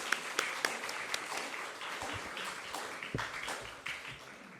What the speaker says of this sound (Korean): 우리 큰 박수로 하나님께 함께 영광을 돌리겠습니다.